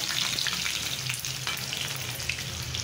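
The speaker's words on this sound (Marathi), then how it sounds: "तेल तापले आपलं। आता आपण जिरे घातले, लसूण घालून घेऊ, मिरची घालून घेऊ" Cumin, garlic and green chili fry in hot oil, giving an even, crackling sizzle with a few light pops that carries steadily through the whole stretch, close and moderately loud, with no voices.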